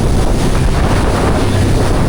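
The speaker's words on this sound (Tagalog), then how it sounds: "Lakas ng alon!" Strong sea waves and wind buffet a small fishing boat on open water, a loud continuous rushing roar with wind noise on the microphone throughout.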